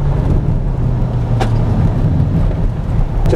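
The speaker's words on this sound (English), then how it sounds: "on this tight corner it feels mighty as we come out, all-wheel drive power." A VW Arteon R Shooting Brake with 4Motion all-wheel drive powering out of a tight corner, a loud, steady, deep engine drone close up with a brief swoosh partway through.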